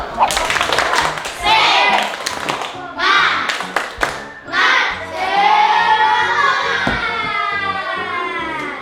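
A madrasah classroom of children doing a rhythmic spirit clap, with bursts of patterned clapping in quick sets, followed by the class cheering and chanting in unison.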